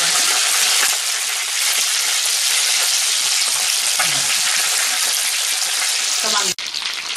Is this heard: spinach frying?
yes